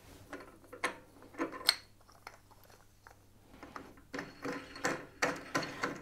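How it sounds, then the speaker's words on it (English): A control knob is threaded by hand onto a Laguna 1632 SuperMax drum sander, giving a close series of small clicking and ratcheting ticks in uneven bursts over a faint steady hum, with no talking. "It just simply screws in here."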